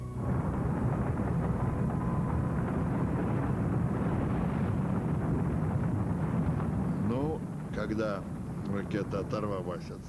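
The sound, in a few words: rocket launching from the launch pad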